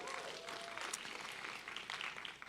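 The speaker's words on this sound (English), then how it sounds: "Let's give him a round of applause." A church congregation claps for a student pastor stepping up, a soft, distant patter of applause that holds steady throughout.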